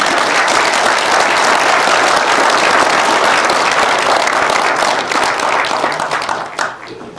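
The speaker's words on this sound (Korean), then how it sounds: "한 번 더 노병에게 박수를 부탁드립니다." An audience at a lecture event gives a veteran a sustained round of applause, loud and dense, with claps blending into a steady roar that tapers slightly near the end.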